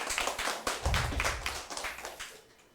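A church congregation at a Christmas praise service claps in thanks, a short burst of close hand claps that fades toward the end.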